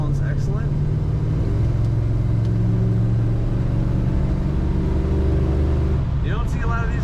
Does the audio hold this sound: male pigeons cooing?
no